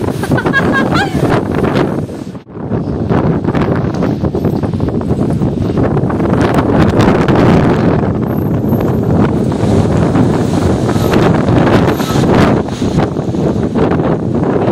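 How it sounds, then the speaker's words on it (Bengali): Strong, stormy wind roars steadily against the microphone as a loud, continuous buffeting rush at cloud-covered Deomali hilltop in Koraput, Odisha, dipping briefly early on before surging again. "বহুত বহুত ঝড় আওয়াজ।"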